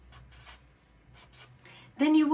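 A marker squeaks in short scratchy strokes as a message is written on a craft Easter bunny, several brief bursts close by, followed by a voice starting to talk at the end.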